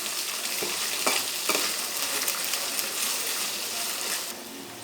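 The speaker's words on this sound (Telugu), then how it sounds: "ఆనియన్స్ ఫ్రై అయిన తర్వాత ముందుగానే కట్ చేసి పెట్టుకున్న ఈ ఆలు ముక్కలు వేసేసేయండి దీనిలో" Potato pieces fry with onions in a hot pan, making a dense, even sizzle at close range with a few brief stirring clatters near the start.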